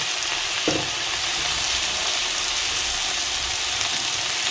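Fish with turmeric cooking in hot oil, giving a loud, steady, dense sizzle with one brief clatter early on and no break.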